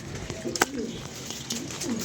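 Pigeons coo softly outdoors in Lahore, with a few brief calls over a steady background hum; no wingbeats stand out, and faint voices hover in the background.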